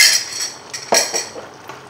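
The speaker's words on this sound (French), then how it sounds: "On remue encore" A utensil stirring crème fraîche into salmon risotto in a pan, with scraping and a couple of clinks against the metal, close and fairly loud over about two seconds.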